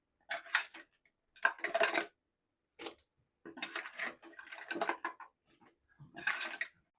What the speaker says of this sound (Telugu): ఈ మసాలా అంతా పీతలకు పట్టేటట్టుగా బాగా కలుపుకోవాలి